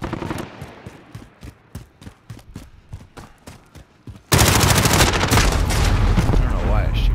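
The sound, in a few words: gunfire in a shooter video game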